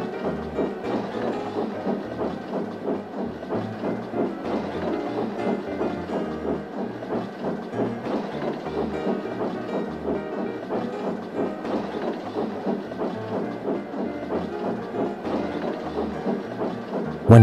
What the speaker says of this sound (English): One day, Percy was pulling goods trains.